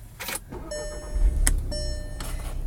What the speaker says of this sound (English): This does have the push button start.